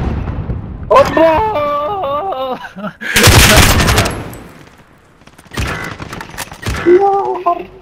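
Bursts of gunfire in the video game Call of Duty: Modern Warfare, a dense loud volley in the middle and sharper shots later, mixed with game sounds and overlapping voices.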